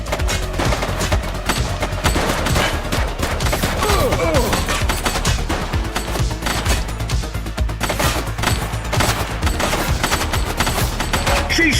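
Gunfire from a shooter in the police game The Precinct, a dense, continuous barrage of rapid shots and bursts running loud throughout amid other game noise.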